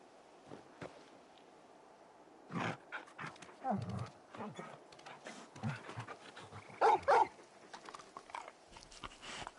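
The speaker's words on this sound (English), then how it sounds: "you're just a big puppy, aren't you? A very big puppy." A very large dog in a video game gives several short, scattered barks and snorts, mixed with soft thumps and shuffling movement, all fairly faint against a quiet background.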